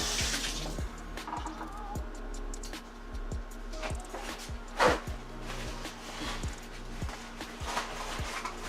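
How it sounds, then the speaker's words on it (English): Kitchen tap water runs over a measuring cup as it is rinsed in the sink, a soft steady flow with regular faint ticking clicks and one louder splash. "So let me get my cup measure again. Rinse it out."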